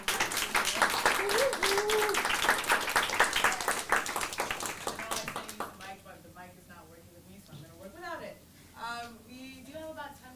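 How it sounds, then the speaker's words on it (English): An audience at a talk on the political economy of the fashion industry claps for about six seconds. Dense, loud applause tapers off into a person speaking. "a huge round of applause for"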